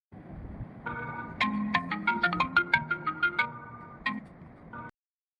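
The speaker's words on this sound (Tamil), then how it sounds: "ஃபோன் அடிச்சுக்கிட்டே இருக்கு எடுக்கலங்க" A mobile phone ringtone plays a bright, steady melodic tune of quick repeated notes for about four seconds, clear and close with no talking over it.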